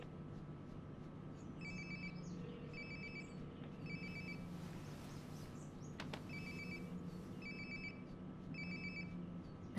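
A mobile phone rings nearby in the video game Life is Strange: Before the Storm, a repeating electronic ringtone in short bursts over a steady low room hum, with no talking.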